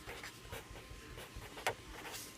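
Marker or chalk strokes on a board in a maths class: soft, scratchy, irregular writing sounds close by, with one sharper tap partway through, over a low background hum.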